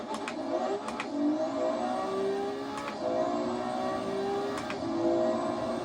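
A Ferrari 296 GTB on a final lap, its engine steadily accelerating with rising and falling pitch as it shifts through gears, plus a few brief clicks over a constant rumbling drone.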